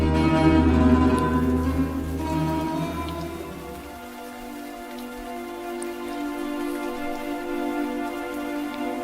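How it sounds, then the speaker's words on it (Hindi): Steady rain patters continuously, with a soft, even hiss and no voices. "बारिश हो रही है"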